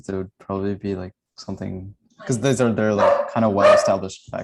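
A dog barks several times in the background, loud and close, overlapping with someone talking during an online workshop.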